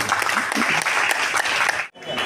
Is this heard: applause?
yes